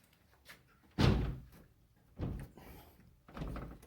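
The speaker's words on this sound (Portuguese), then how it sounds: "Vou fechar a porta aqui porque" Indoors in a house with a newly built fireplace, a door is pushed shut with a heavy thud, followed by two softer bumps and knocks as it settles, close and with no talking.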